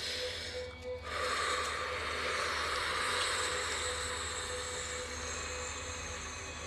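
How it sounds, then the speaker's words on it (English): A train rumbles far off as a steady, faint wash of noise that swells slightly after the first second and holds evenly, with no voices over it. "Can you hear the train?"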